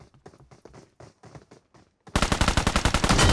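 Gunfire from the PUBG Mobile game: a string of softer distant shots, a short pause, then a loud, rapid automatic burst of close, evenly spaced shots.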